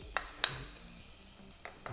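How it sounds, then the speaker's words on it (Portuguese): Bacon dropped into a hot pan starts frying with a faint, steady sizzle, broken by a few light clinks of stirring and no talking. "Vou até colocar um pouquinho de azeite com o bacon, mas ele já vai soltar a gordura"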